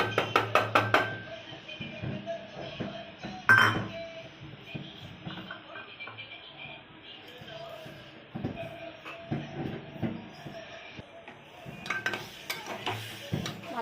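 Mutton being stirred in a pot, irregular metallic scrapes and clinks of a spoon against the pot over a soft sizzle, with some quiet talk in the background.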